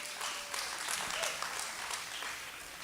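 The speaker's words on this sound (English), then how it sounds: "let's go ahead and give them a round of applause for being here today." Quiet, steady applause from an audience at a 4-H fair youth talent show, welcoming the judges, sounding distant and continuous throughout.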